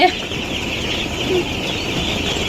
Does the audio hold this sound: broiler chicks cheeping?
yes